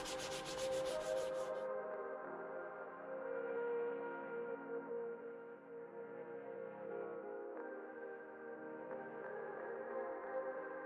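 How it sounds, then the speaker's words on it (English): Wet and dry sandpaper is rubbed by hand over the rusty B pillar of a campervan, producing a steady, close abrasive scraping that continues without a break and shifts slightly in tone as the strokes change. "I moved on to using some wet and dry sandpaper to get into the trickier areas"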